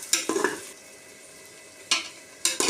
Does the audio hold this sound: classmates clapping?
no